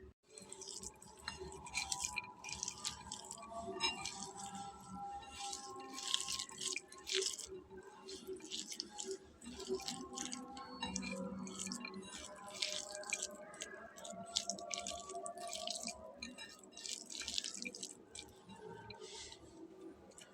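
Spices and a cracked egg are squished and kneaded together by hand for a sandwich filling, giving faint wet squelching and soft crunchy rubbing that continues steadily throughout.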